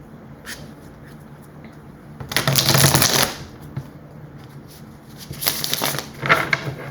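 Tarot cards are shuffled by hand in two distinct bursts of riffling and flicking, a longer one early and a shorter one near the end, close and clear with quiet pauses between.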